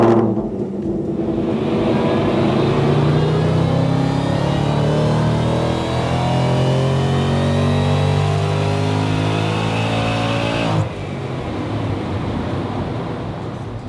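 An 867 bhp car on a dyno during tuning, its engine droning loud and close through a long rising pull with climbing harmonic tones, then dropping abruptly to a lower idle near the end, with no talking.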